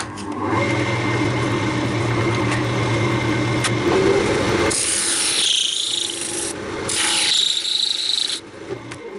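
Wood burning rings into a walnut bowl on a wood lathe, with continuous rubbing, rasping friction over the lathe's hum that turns brighter and harsher partway through.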